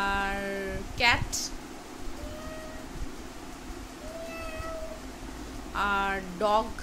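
A little girl imitates a cat's meow with a couple of short, voiced mews close to the mic, set between spoken prompts in a quiet indoor room.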